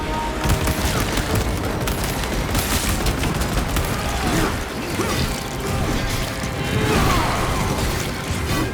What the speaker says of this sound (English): Coming frag grenade